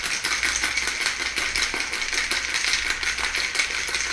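A cocktail being shaken in a shaker for a color-changing drink gives a steady, rapid rattling rhythm, close and loud, that runs the whole time with no talking.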